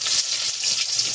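Onions sauté for sardines in hot oil, giving a brief, close, bright sizzle with faint popping.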